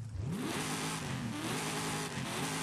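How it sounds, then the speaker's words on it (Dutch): The stock engine of a 2021 Ford Bronco in Forza Horizon 5 revs up with a rising, throaty drone that then holds at a steady loud pitch for a couple of seconds, with no speech. "We hebben nu natuurlijk de standaard motor erin liggen. Klinkt al best wel goed"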